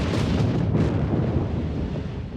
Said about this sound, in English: capture the wrath of Anak Krakatoa on film as it launched a lethal explosion